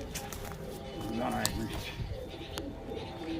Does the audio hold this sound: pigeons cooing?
yes